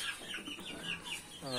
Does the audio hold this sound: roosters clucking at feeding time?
yes